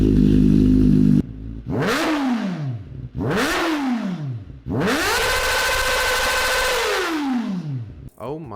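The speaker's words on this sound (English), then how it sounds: "have a listen to what the new ZX could sound like with an aftermarket exhaust on it too" A Kawasaki ZX-4R sport motorcycle with an aftermarket exhaust revs hard several times, each throttle blip rising and falling sharply, then a long sustained roar, loud and close.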